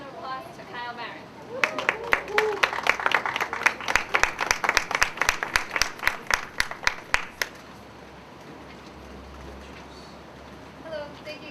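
Scattered applause from a small audience welcoming a speaker, Kyle Barron, at a New York event on immigrants and unaccompanied minors: a few seconds of fairly sparse, distinct handclaps that build and then die away, followed by quiet room tone.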